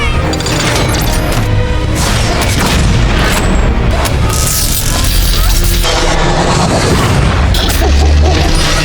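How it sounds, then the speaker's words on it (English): A massive, sustained explosion roars and rumbles for several seconds, loud and close, with crashing debris and deep booming throughout. "The violent explosion throws Tony into the air, but it also saves his life."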